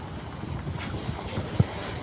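Strong wind blows at sea aboard a boat in worsening weather, a steady, fairly quiet blustery rush with a few low thumps and gusts, and no voices.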